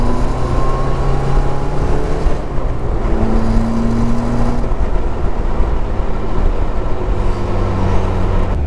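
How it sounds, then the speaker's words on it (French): A Caterham Seven 275R's four-cylinder engine hums at a steady idle and revs in sustained tones, close and loud, with a continuous low rumble underneath. "Donc c'est un 4 cylindres dedans."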